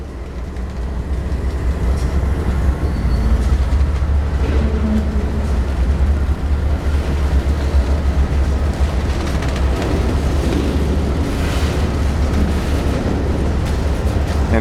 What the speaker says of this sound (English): and you literally are right next to the train.